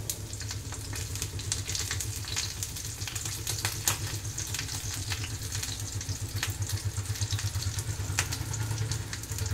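Parse fish fried in a pan of hot oil on lowered gas sizzle in a steady, close crackle with small pops and spits throughout, and no voices.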